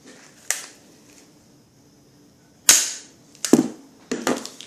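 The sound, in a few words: Nerf Zombie Strike toy gun firing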